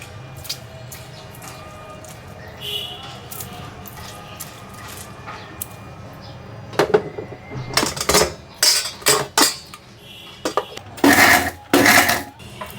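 Oats, vinegar and lemon juice being mixed into ingredients in a bowl, heard as a quiet stretch followed by sharp clinks and scraping knocks of a utensil against the dish, louder in the second half.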